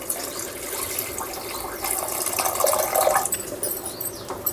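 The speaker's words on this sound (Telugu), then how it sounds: "ఇప్పుడు ఇందులో వాటర్ అయితే యాడ్ చేసుకోవాలి మనము" Water poured into a thickened masala for corn curry in a cooking pan, a close, steady splashing and filling sound that swells and hisses over a few seconds with no voices.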